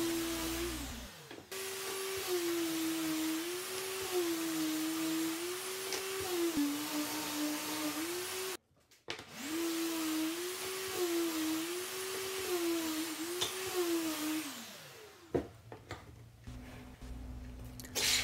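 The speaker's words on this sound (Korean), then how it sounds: "재단한 목재들을 전체적으로 샌딩 작업을 합니다." A power sander works over cut wood boards with a steady whirring whine. It cuts out briefly partway through, resumes, and stops near the end, leaving quieter workshop noise.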